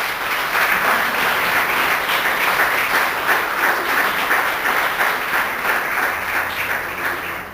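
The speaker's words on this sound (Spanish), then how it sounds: "¿Cuántos le dan un aplauso a las niñas?" A church congregation breaks into sustained, dense applause, loud and steady throughout with no voices rising above it.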